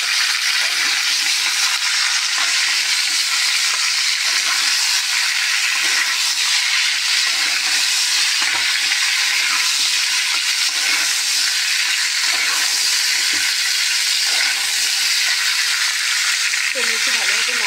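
Potatoes go into a pan of vegetarian jackfruit (echor) curry and fry with a steady, close, hissing sizzle, with soft scraping as they are stirred throughout.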